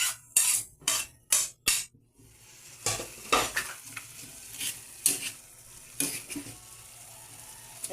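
Mung beans get added to a cooking pot and stirred. Several quick, loud scraping and clattering strokes come first, then softer rhythmic stirring over a low sizzle, close up, with no talking.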